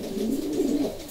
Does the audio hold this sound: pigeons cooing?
yes